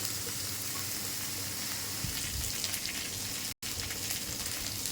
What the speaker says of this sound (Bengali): আমার পেঁয়াজ ভাজা বাদামি কালার হয়ে গেছে